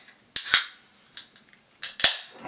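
A can of Farmery pale ale cracked open: a sharp metallic snap followed by a hissing burst of gas, then a second snap-and-hiss a moment later, close and fairly loud with no talk.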